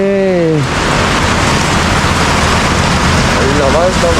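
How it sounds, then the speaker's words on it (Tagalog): Heavy rain pours steadily onto a tent during a ride to falls in Infanta, a dense continuous hiss throughout, with people talking at the start and end. "Sobrang lakas ng ulan."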